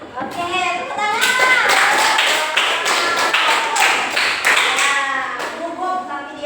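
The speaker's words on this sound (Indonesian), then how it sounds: "Oke, tepuk tangan." A classroom group claps along in rhythm while children and a teacher talk and chant over it, the taps close and fairly loud.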